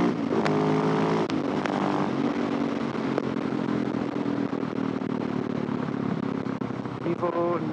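Mitsubishi Evo 9 MR driving loud and close, its engine droning steadily with sharp exhaust pops breaking through, while people talk over it.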